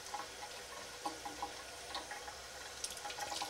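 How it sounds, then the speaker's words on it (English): Well water runs from a tap into a sample bottle being filled to the top for water testing, a steady soft splashing stream with faint ticking, no voices. "what you wanna do is you wanna fill it up all the way"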